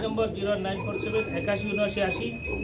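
Pigeons at a breeder's loft coo softly in the background while someone talks over them, with a steady high electronic tone running underneath.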